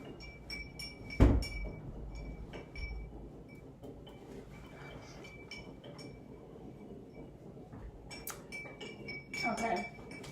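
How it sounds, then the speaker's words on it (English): Utensil stirring a mixture in a dish during a classroom co-teaching lesson, giving light clinks and scrapes against the bowl, with one sharp knock early on and a burst of rattling near the end. "Mix it up real good."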